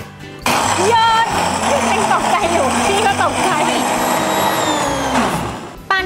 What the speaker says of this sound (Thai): แล้วก็ ปั่นครับ